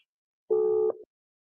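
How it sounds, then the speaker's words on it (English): A single short electronic phone tone sounds once on a call that is connecting but not ringing, a clean steady beep followed by a brief lower blip, then silence. "It's calling, it's not ringing."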